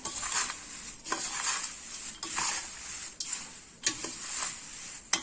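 A spoon mixes thin-poha chivda in a pan, making rhythmic scraping strokes roughly once a second over a soft, continuous rustle and faint sizzle.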